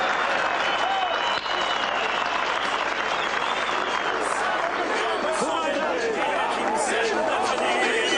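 A large crowd applauds the sacred tricolour Azerbaijani flag, with loud, steady, dense clapping and cheering sustained throughout and a background of crowd chatter.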